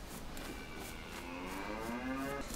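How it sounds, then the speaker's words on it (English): Cows moo in DayZ, several long, low lowing calls rising over a steady outdoor wind-like ambience, moderately close and with no talking. "Okay, if you're lucky, cows."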